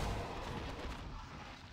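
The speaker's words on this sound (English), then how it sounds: "once these units die, they even like explode, right?" Units explode in the video game Legion TD, a dense rumbling barrage of booms and blasts filling the whole stretch at moderate loudness, with no voice over it.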